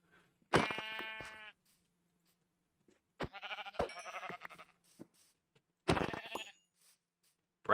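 Three separate bleats from sheep in the video game Minecraft, each about a second long with quiet gaps between, clear and fairly close, with no talk.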